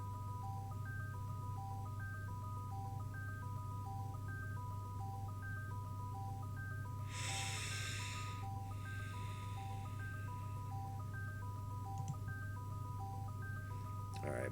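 Telephone ringing tones in the MS-DOS video game Mario Is Missing, a repeating electronic two-note warble pattern over a steady low hum, briefly interrupted by a short noisy burst partway through.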